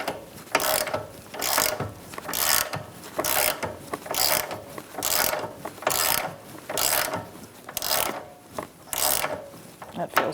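A hand ratchet tightens a rear lower control arm bolt on a 2012–2018 Ford Focus, close and clear, in a steady series of about a dozen rhythmic clicking strokes with no talk.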